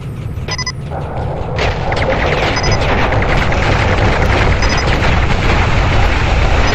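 Missile explosions in the video game Battlezone Combat Commander form a loud, dense, continuous roar of blasts and rumble with a few sharper bursts near the start.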